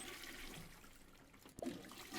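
A toilet flushes in the video game Landlord's Super, a short rushing gush of water rising to a brief loud swirl near the end, heard alone without talk.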